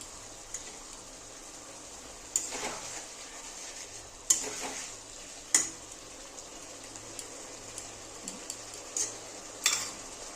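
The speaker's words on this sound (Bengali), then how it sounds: "এবার আমি মাছগুলো সব দিয়ে দিচ্ছি। হালকা করে একটু নেড়ে দেব।" Boroli fish dropped into a pot of boiling curry and stirred gently, with a soft steady bubbling and sizzle broken by a few sharp clinks of the spoon against the pot.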